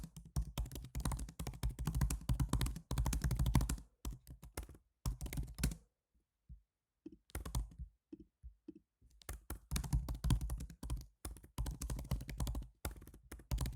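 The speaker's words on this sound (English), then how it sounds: "I do apologize if the keyboard noises are too loud. I'm a loud typer" Heavy, fast typing on a computer keyboard, loud close clicks and thunks in dense bursts, broken by a few pauses of near silence midway, with no speech.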